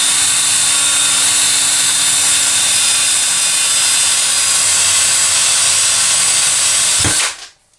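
A power drill bores a hole, held as straight as possible, its loud, steady whine close and continuous for about seven seconds before cutting off abruptly into quiet.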